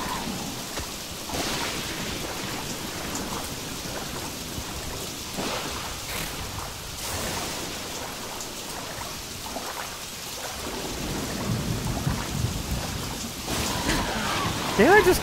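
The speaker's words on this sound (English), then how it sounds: "Rain falls quickly in the jungle." Steady jungle rain pours with rumbling thunder in the King Kong video game, a continuous wash of rainfall that swells toward the end, while characters talk over it.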